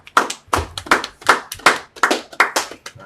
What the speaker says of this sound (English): Clap it up for brother.